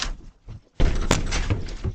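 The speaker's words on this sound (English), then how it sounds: "the suspects are trying to kick in those doors" Suspects kicking in a house door: after a couple of muffled knocks, a loud heavy slam and bang as the door is struck, followed by a sustained crash and rattle, close and forceful, with no speech.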